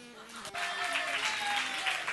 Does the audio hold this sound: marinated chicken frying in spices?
no